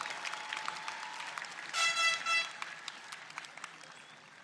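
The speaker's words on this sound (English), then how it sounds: "a round of applause for the great, outstanding class of 2024." Applause from a graduation ceremony audience for the class of 2024, a sustained wash of clapping heard from a distance, briefly joined midway by a short, bright tonal blare like a horn or whistle.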